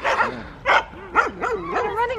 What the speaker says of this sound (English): Some dogs. We can hear them.